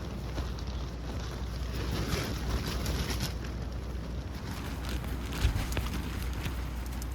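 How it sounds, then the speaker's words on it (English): Steady wind gusting across an island campsite at Dry Tortugas National Park, a continuous low rushing buffet on the microphone with faint surf-like noise and occasional light knocks, no voices. "It's windy."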